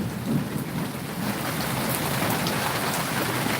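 Light drizzle falls on a countryside area as a steady, close patter of drops, with a low rumble underneath throughout.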